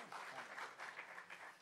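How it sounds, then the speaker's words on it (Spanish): A church congregation claps loudly during a Spanish-language service, a steady wash of applause that keeps going for the whole stretch and swells slightly in waves. "lo recibimos con un fuerte aplauso."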